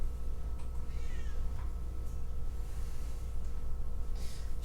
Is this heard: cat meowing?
yes